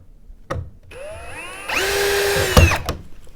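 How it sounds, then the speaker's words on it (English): A power drill drives bolts while assembling a wooden rocker chair, whirring in short bursts, its motor pitch climbing and then holding steady as it drives, with sharp clicks and knocks between runs. "You get your drill in there."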